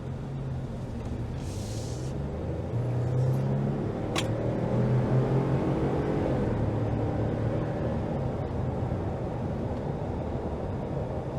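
2022 Ford Expedition Max XLT SUV accelerating on a road, a steady low engine and road rumble from inside the cabin, with one brief sharp click, no talking.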